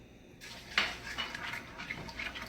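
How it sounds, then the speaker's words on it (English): Ogbonno seeds from Igala being stirred in hot oil in a pot, giving a few close scraping and clinking sounds of a spoon against the metal over a faint hiss, with no talk. "I'm going to keep stirring it for about a minute."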